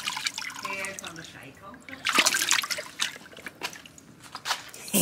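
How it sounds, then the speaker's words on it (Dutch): Water pours and splashes over dogs in a bath, trickling and dripping steadily with louder gushes partway through, nearby and moderately loud. "Lekker even water over je heen."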